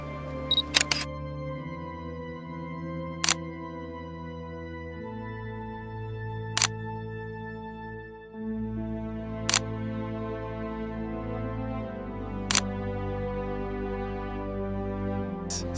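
Camera shutter clicks while taking a selfie together, four sharp clicks evenly spaced about three seconds apart, over a steady backdrop of layered music-like tones.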